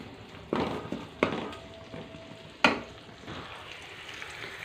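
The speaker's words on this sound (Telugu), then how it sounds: "ఉల్లిపాయలు వేగిపోయాయండి" Onions frying in a pan for a tomato egg curry give a faint, steady sizzle, punctuated by a few sharp spatula knocks against the pan.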